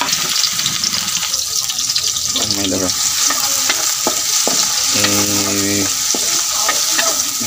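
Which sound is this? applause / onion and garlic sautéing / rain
onion and garlic sautéing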